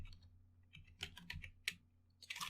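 Fingers tap a computer keyboard in quiet, irregular bursts of clicks, some keys struck harder than others, close and alone.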